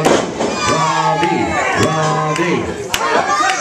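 A wrestling crowd at an SCW Feast or Famine show cheers and shouts loudly and steadily for Robbie Vile, a dense roar of many voices with sharp yells rising above it.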